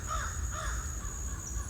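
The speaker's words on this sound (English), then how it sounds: "Don't mind the crows." Crows caw outdoors, two or three harsh calls close together at a moderate distance over a steady low background rumble, then the calls fade into the ambient noise.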